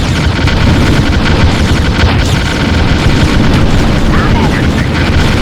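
Explosions and hostile fire in a Ground Control real-time strategy battle, a dense, continuous rumble of booms and blasts that runs loud for the whole stretch, with radio-style unit voices layered over it.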